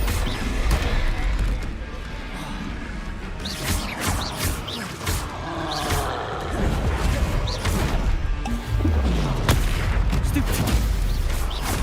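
Bombarda blasting spells in Hogwarts Legacy, repeated sharp explosive bursts over nearly twelve seconds of busy magical combat, with other crashes and impacts and a voice calling out between blasts.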